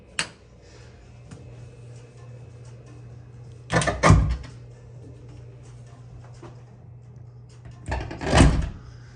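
Two hotel room closet doors at the Beau Rivage resort in Biloxi are shut, each a firm double thud a few seconds apart, over a steady low room hum with no talk.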